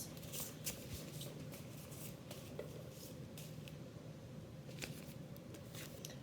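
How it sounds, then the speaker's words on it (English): Cards are handed out to small groups during a bilingual story hour. Steady soft rustling and shuffling of cards continues throughout, with light flicks and no talking. "So now I'm going to pass out your cards."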